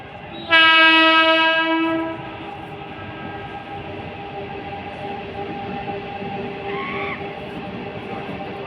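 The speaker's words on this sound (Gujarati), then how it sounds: "આ ટ્રેન આવી છે" A train horn blares loudly with a rich chord for about two seconds, followed by the steady rumble of a train rolling in, with a brief squeal near the end.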